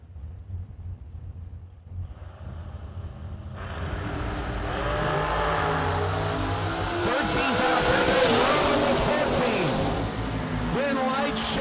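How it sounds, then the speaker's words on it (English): Dragsters launch down the drag strip at a New Year Nationals drag racing event, building from a quiet start into a loud, sustained engine roar that swells and holds near the end, with an announcer talking over it. "Shelby Miles out of South Carolina, the Darlington Dragway.com backed dragster, 453 dialing for the Spitzer chassis ride"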